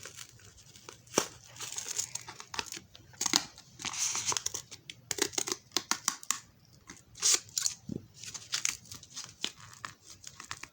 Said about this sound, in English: Now we cut a slit for the pennies.